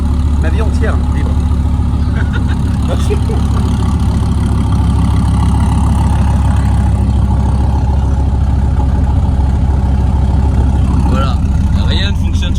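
Car engine idling rough and vibrating with a loud, steady low rumble close by, joined by rattles, while people talk over it.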